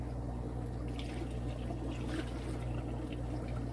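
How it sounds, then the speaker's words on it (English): Strained homemade organic fertilizer liquid is poured gently in a quiet, steady trickle over a low background hum. "Now I can just very gently, gingerly begin to pour this into there."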